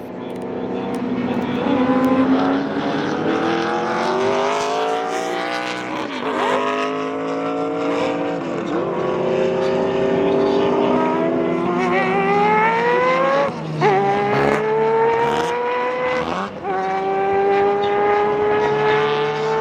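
A Mazda 767B four-rotor race car screams loud and close while racing through city streets, its rotary engine climbing through repeated rising revs, with sharp shifts and dips between long howling pulls.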